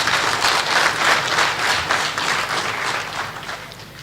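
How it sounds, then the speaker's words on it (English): Sustained, dense applause from a large audience at a graduation lecture, a steady wash of clapping that swells and then gradually tapers off without speech. "I think we deserve a round of applause."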